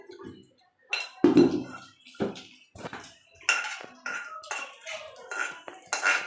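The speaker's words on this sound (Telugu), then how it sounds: "ఒక ప్లేట్ తీసుకోవాలి." Several clinks and clatters of dishes and cutlery, spaced irregularly, as a plate is lifted and handled close by while making egg fry.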